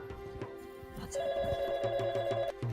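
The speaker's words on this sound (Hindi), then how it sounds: "अरे कोई है जो फोन सुन ले, मुआ चिल्लाए जा रहा है कब से।" A telephone rings with a steady electronic trill for about a second and a half, fairly close, amid faint room noise.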